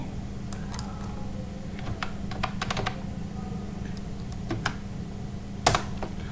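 Irregular light clicks of a computer keyboard as a search query is typed, close and fairly clear over a steady low background hum.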